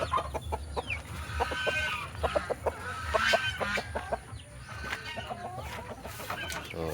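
Chickens, including Rhode Island Reds and hybrid heritage birds, cluck and call continuously on a farm, a busy flock close by with overlapping sharp clucks over steady background noise and no talking.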